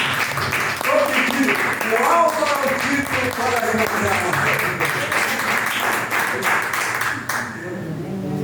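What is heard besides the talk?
congregation applauding the Lord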